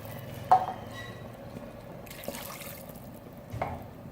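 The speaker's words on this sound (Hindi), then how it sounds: "2 गिलास पानी शामिल कर देंगे।" Water being poured from glasses onto turnips in a cooking pot, a few splashy pours and drips at moderate level, close by, with no speech.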